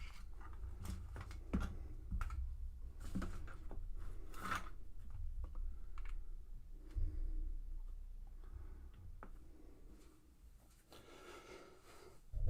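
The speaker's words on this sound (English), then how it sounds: "That was the Cornelius keyboard." Quiet, irregular clicking from the Cornelius mechanical keyboard as keys are pressed in short bursts, with scattered taps and pauses over a low background rumble.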